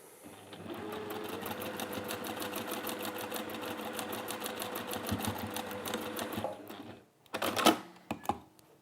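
A sewing machine stitching fabric squares for a crown-shaped pincushion, a fast steady mechanical whirr running close for about seven seconds, then stopping and followed by a few clicks and handling noises.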